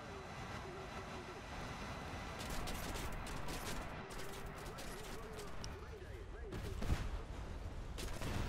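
An A-10 attack jet's gun fires in a combat video game, a harsh burst of rapid fire under continuous engine rumble, with a player talking over it.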